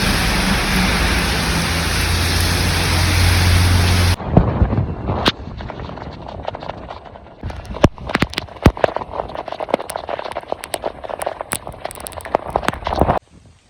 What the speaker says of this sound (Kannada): ಇಲ್ಲಿ ಸಿಟಿಲಿ ಹೆವಿ ಜೋರು ಮಳೆ ಇತ್ತು